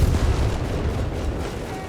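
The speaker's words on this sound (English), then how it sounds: "So a lot of artillery sounding off there in the south" Artillery fire booms in the Company of Heroes 3 video game as a dense, rumbling barrage of low, overlapping thuds that fades slightly toward the end.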